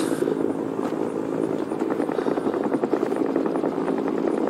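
A helicopter flies in the Vietnam War game Rising Storm 2 Vietnam, its rotor chopping in a steady rapid throb, close and loud, alone without speech.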